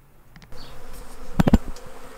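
Honey bees buzz around beehives, a brief faint hum followed by a few louder close passes of buzzing wings within about two seconds.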